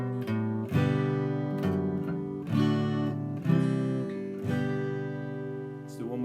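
A beginner's version of a song is strummed on an acoustic guitar, slow chord changes ringing out one after another with clear attacks and sustained decay, played solo and close.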